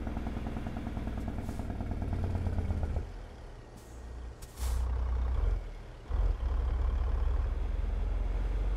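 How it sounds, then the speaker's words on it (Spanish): A truck engine drones low and steady in American Truck Simulator, interrupted midway by sharp hissing bursts of air brakes, with the engine rumble returning heavily afterward. "Va muy relajado el motor con este peso"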